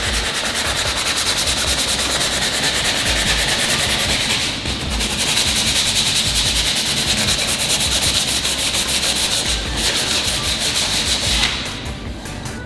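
Sandpaper rubs back and forth over a wooden piece clamped firmly to a table, a steady, close, continuous scratchy hiss with a brief lull near the middle and no talking.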